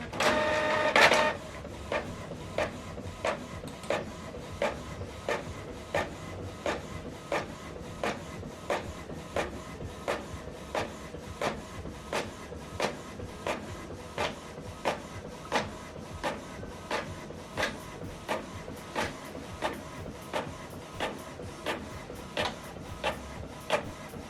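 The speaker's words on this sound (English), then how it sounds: "You can see the document is printing out." A printer prints a document on both sides, starting with a brief louder mechanical whir and then settling into regular rhythmic clicks and feed thumps repeating about once a second, close and alone.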